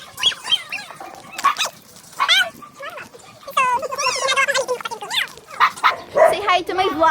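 Dogs out on a walk give short barks and high whimpers among lively voices, with fowl clucking somewhere nearby.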